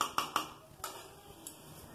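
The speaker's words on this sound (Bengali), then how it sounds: "চাল আর ডালটা দিয়ে ভালো করে আমি ভেজে নিচ্ছি।" Rice and lentils are dry-fried in a pan with a utensil stirring and scraping, giving a few sharp metallic clicks and taps, fairly faint and close, with no voice.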